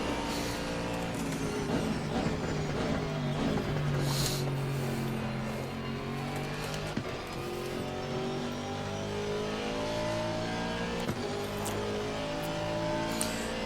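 Race car engine in the Assetto Corsa Competizione sim, a GT car lapping a circuit over crests, holding a steady loud drone with rising and falling gear-change pitch sweeps throughout, alone without talk.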